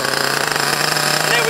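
A running Ansmann Virus 2.0 nitro RC car engine makes a loud, steady, rapid buzzing close by.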